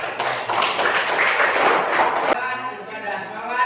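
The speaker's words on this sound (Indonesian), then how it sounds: "Tepuk tangan untuk kita semua." Students in a classroom applaud together in a dense burst of clapping that cuts off abruptly, leaving a quieter room with faint murmuring behind it.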